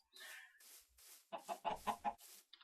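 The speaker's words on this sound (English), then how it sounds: "Chickens, of course." Chickens cluck in the Minecraft video game, a series of clucks and short bursts, the middle ones coming in a quick rhythm, all faint and with no talking.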